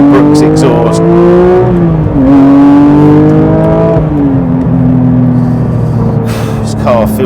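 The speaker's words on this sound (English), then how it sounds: "this is in normal mode, so this is the sound you get from a Brooks exhaust." Porsche 992 GT3 Touring fitted with a Brooks exhaust in normal mode, engine droning loud and steady with shifting pitch as it drives, rising and settling through gear changes.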